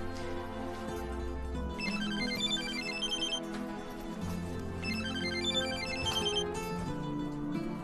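Phone ringtone playing a repeating melodic chime pattern over a low sustained tone, fairly loud and steady for several seconds, with no talking.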